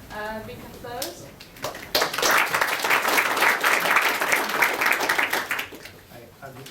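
Audience applause at a tech conference, a dense sustained burst of clapping that swells after some brief opening noise and holds steady before tapering off at the end.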